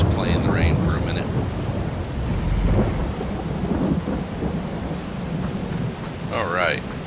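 Thunderstorm in Farming Simulator 22 on the Elm Creek map, with a deep thunder rumble under steady rain hiss and short chirping sounds near the start and end.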